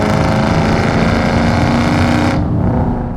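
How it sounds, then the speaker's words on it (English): Exhaust of a 2004 Ford Mustang Mach 1 with a 4.6 V8 and five-speed, a loud, steady, deep rumble that carries through most of the clip before the upper tones drop away near the end. "that exhaust sounds awesome"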